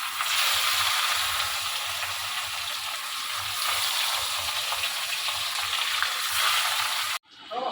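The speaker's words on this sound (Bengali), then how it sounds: "চলো তেলও আমার হয়ে গেছে সব পাঁচগুলো ভাজি" Food frying in hot oil in a home kitchen, a steady broad sizzling hiss running close and loud almost throughout, with faint low bumps beneath, cutting off abruptly near the end.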